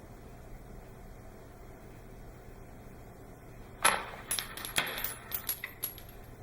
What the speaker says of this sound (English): the inside pennies have not flown off, but the outside pennies have